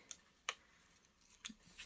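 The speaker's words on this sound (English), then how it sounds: "I'm just going to run along with the scissors across the top and just snip off any sellotape that is showing" Scissors snip off sellotape along the top of handmade jubilee bunting, a few faint, sharp clicks and snips spread irregularly across a quiet moment.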